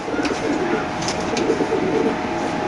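A chocolate-coloured female pigeon coos at close range, with a low throaty murmur going on steadily against a busy background of other birds.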